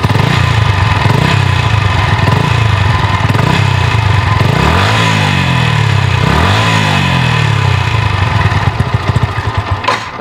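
A Yamaha MT-125 motorcycle engine idles loudly nearby, then is blipped twice with rising revs that quickly fall back to a steady idle.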